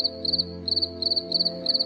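Crickets on a cricket farm chirp in close, steady trills, repeated short bursts of rapid pulses in a regular rhythm over a low constant background hum.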